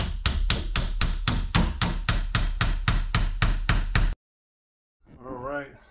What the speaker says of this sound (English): And we're just going to tap the bolt back in.